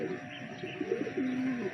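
A racing pigeon back home at its loft after a training flight coos softly in low, rolling phrases, close by, with faint background noise and occasional distant voices.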